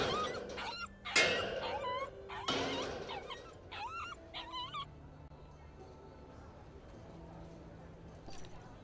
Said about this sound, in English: Where did you get this dog?